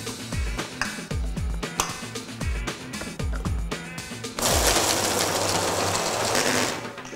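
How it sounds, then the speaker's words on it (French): A Philips food processor blends pesto with olives, thyme and Espelette pepper, first in repeated short pulses that thud and rattle, then in one steady loud whirring run, close by with no talking. "On va mixer."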